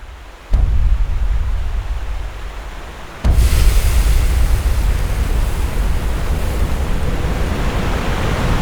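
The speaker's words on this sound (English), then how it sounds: "The sound of a rapid is your first glimpse at the power of a rapid." Class V whitewater river rapid roaring as a dense, continuous broadband rush, loud and close, surging louder after a few seconds and holding steady with no voices.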